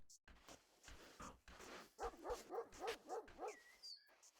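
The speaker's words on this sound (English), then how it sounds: "That's a dog in the game." A dog in a video game barks in a quick run of five or six sharp, evenly spaced woofs, faint overall, with a short whimpering yip and soft game sounds around it.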